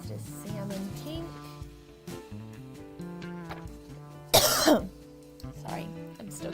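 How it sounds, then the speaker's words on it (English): A person coughs and clears their throat in one sharp, loud burst, set against a voice and soft background tones. "I'm still coughing with you guys"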